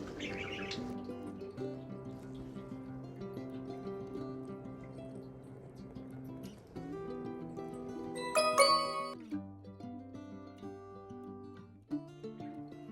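Pet budgies in their cage give brief chirps and a short burst of tweeting over a steady tonal background, close by and moderately loud.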